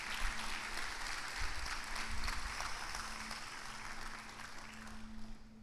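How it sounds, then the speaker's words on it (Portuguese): A church seminar congregation claps together in a fairly soft, sustained round of applause with a constant low hum underneath and no talking over it. "queria que você desse um forte aplauso a Jesus por sua vida"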